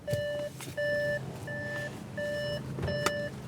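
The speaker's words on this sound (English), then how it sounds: "Car's letting us know the engine's running and we're getting out" An Audi S6 4.0T V8 sedan's warning chime beeps in a steady repeating pattern, five evenly spaced tones over a low idling engine hum, sounding because the engine is running with the door open.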